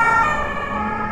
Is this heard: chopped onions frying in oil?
no